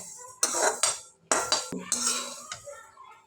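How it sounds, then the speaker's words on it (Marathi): Sesame seeds dry-roasting in a pan, stirred with a spatula. Several close bursts of scraping and rattling are separated by short quiet gaps, and no voice is heard. "हे तीळ चांगले भाजून घेते मी"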